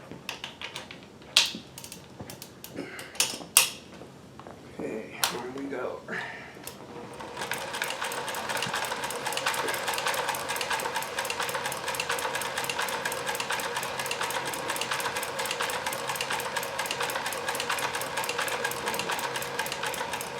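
Kenmore 158.1040 sewing machine fitted with a Singer zigzag attachment: a few clicks and handling knocks, then a loud, continuous close-up whir of rapid rhythmic stitching for the rest of the clip.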